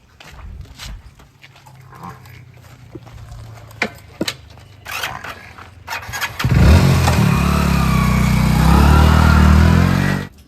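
A motorcycle is handled with a few clicks and knocks, then its engine catches and runs with a loud, steady close rumble for several seconds before cutting off.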